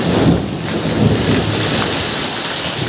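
Heavy rain pours steadily with a dense hiss, while low thunder rumbles underneath; loud and close throughout.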